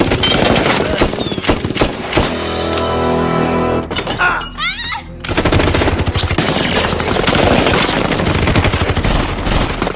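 Dense bursts of rapid gunfire from the film The Transporter with loud overlapping shots, a brief break with whooshing and shattering, then heavy shooting resumes over a rumbling background.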